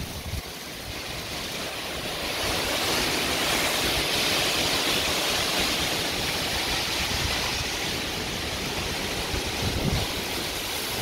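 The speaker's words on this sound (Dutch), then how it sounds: "Ineens komt het zo daar, al die regen," A sudden heavy rain shower comes down as a dense, steady hiss, with gusty rumbling beneath it, loud and continuous with no talking.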